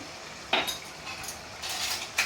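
A utensil stirs paneer mushroom curry with ghee, garam masala and coriander leaves in a pan, making close scraping strokes, with a few sharper clinks against the metal.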